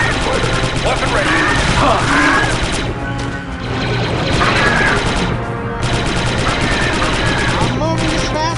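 Dense, loud gunfire and explosions from the Star Wars Republic Commando video game rattle on continuously, with in-game voices shouting over the battle.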